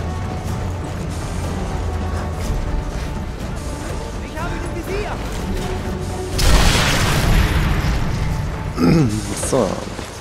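A grenade goes off in the World War II sniper video game Sniper Elite III with a loud, broad blast partway through, followed by a smaller burst, over in-game background noise and someone talking.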